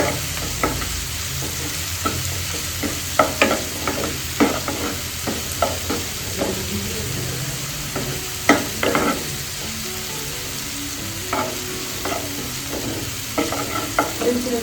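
Onions sizzle in hot oil as they are fried golden for a mung dal, with repeated spatula scrapes and taps against the pan over a continuous crackling hiss.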